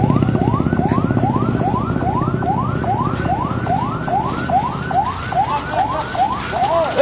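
An ambulance's wailing siren sweeps up and down repeatedly in a fast, steady cycle, loud and close, over a low engine rumble, with no voices; in Bireuen, Aceh, Indonesia.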